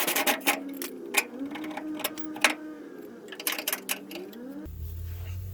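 Rapid ratcheting of a 21mm wrench and socket loosening the through-bolt and nut of a 1999–2006 Chevrolet Silverado shock, in quick clicking bursts with a pause partway, ending on a brief low mechanical rumble.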